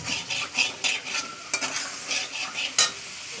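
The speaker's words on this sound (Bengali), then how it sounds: "এবার এই কড়াই আমি অল্প একটু তেল দিয়ে দেবো, খুব অল্প পরিমাণ তেল দিয়ে দেবো," A small amount of oil heating in a wok (kadai) on a gas stove, with rapid sizzling and repeated stirring scrapes in a quick uneven rhythm, close up and alone.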